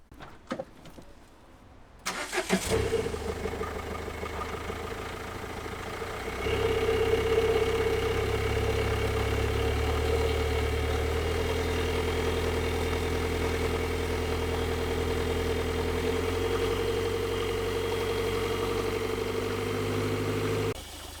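A car engine starts after a few quiet seconds, then idles with a steady low rumble that rises slightly and holds until near the end.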